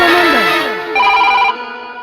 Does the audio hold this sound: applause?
no